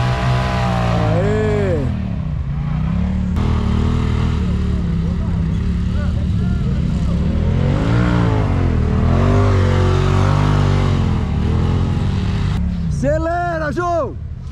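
A Can-Am Maverick X3 RS UTV accelerates off-road on an expedition in Serra da Bocaina, its engine revving up and down in loud, close swells with sharp high revs near the end, while people shout over it.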